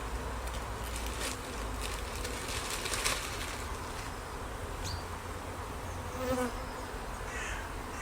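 Honeybees buzzing densely around a strong, busy beehive during a nectar flow in mid-April, a constant close drone with occasional individual bees passing and faint birds in the background.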